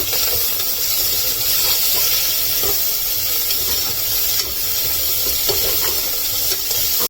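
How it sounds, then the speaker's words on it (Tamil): Dried red chillies sauté in a pan for a village-style bottle gourd kootu, giving a steady, loud hiss of sizzling oil with faint scraping and crackles throughout. "இதுதான் வரமிளகாய். நல்லா வதக்கிக்கோங்க."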